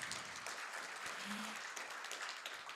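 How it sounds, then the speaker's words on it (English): Steady applause from a conference audience for a panel, a dense wash of clapping that holds at an even level throughout without fading. "Could we just give a round of applause to the panelists, please?"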